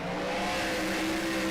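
Race cars accelerating together at the green flag at Richmond in a racing video game, a loud continuous engine roar with layered tones that fills the whole moment.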